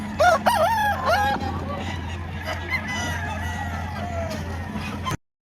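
A rooster crows loudly and close by at a busy chicken market in Lipa, Batangas, with one full crow near the start over a constant low hum and background chatter, then fainter fowl calls.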